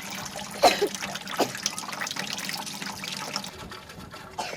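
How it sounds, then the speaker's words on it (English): Clean water trickles from a water purifier, a faint, quiet flow with a few louder splashes near the start, with no voices. "The original drinking water passed through the water purifier and became clean."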